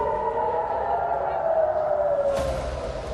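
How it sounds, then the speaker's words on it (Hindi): An air raid siren wails steadily in Jerusalem, its sustained tone gliding slightly downward and sounding loud and continuous, with a broadband burst near the end. "इस घोषणा के बाद से यरूशलेम में सायरन बज रहे हैं"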